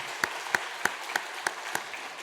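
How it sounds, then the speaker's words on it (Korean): A church congregation applauds to welcome a new member: a small group of sparse, evenly spaced claps, about six distinct hits, moderately near and fairly soft, with no voices. "오늘 등록하셨으면 우리 박수로 한번 환영하겠습니다"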